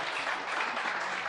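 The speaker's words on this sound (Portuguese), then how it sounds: "Dá uma salva de palmas" A church congregation at a thanksgiving evening service breaks into a dense burst of applause, many hands clapping together in a steady, bright wash that lasts throughout.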